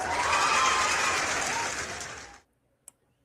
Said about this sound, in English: Let's give him a hand clap.